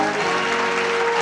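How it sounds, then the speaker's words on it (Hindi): A brief burst of dense audience applause at a worship gathering, a full steady wash of clapping lasting only about a second. "उस जिंदा खुदावंद खुदा के लिए एक बार जोरदार तालियां"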